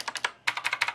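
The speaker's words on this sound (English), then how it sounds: "this really cool rainbow typewriter keyboard that makes really satisfying clacking noises" A rainbow typewriter-style computer keyboard clacking under quick typing, crisp close keystrokes in two bursts separated by a short pause.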